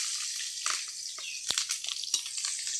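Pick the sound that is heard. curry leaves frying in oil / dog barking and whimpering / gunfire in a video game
curry leaves frying in oil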